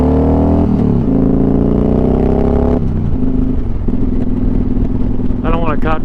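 Motorcycle engine revving and downshifting while cruising at 3am, a loud close engine drone rising in pitch, dropping through gear changes, then a sharp rev near the end, with a rider talking over it.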